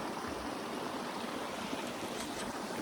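A river stream flows steadily nearby, a dense continuous rushing wash of water holding even throughout with no voices.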